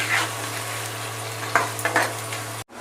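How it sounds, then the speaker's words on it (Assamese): Spices being turned over with taro in a hot pan: a soft sizzle runs throughout, broken by a few scraping stirs and light utensil knocks before stopping abruptly. "মছলাখিনি এনেধৰণে তল ওপৰ কৰি দিম কচুখিনিৰ লগত"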